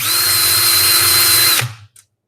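A power drill spinning to twist Clapton coil wire pulled taut, a loud steady whine running close for about a second and a half, then cutting off and winding down.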